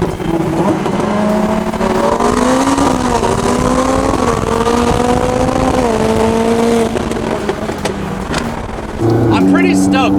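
A McLaren 600LT races a tuned Ferrari Pista, loud high-revving engines climbing and shifting through gears close by, with a voice talking over the roar near the end.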